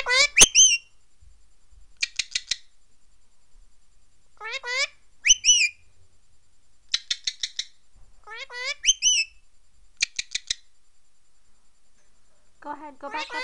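An Indian Ringneck parrot gives repeated bursts of sharp whistles and chirpy calls, several separate phrases with short pauses between them, close and clear with no other sound over them.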